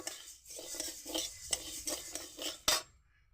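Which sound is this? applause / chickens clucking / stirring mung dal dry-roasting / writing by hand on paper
stirring mung dal dry-roasting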